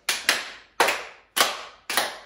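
Five sharp hand claps in a steady crotchet beat, each a crisp broadband slap with a short decay, evenly spaced and close, with no talk.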